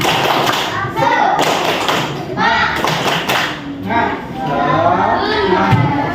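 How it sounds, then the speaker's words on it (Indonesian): Classroom of fourth-grade children doing a rhythmic clapping chant together, loud sharp claps in patterned bursts mixed with their chanting voices filling the room. "ayo kita tepuk semangat dulu biar mengerjakannya semangat"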